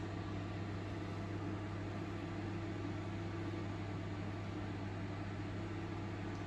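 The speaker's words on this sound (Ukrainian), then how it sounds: "Як бачимо, працює як звичайна мікрохвильовка" A Samsung MS20A7013AB built-in microwave oven hums steadily nearby, a constant low drone with no pauses.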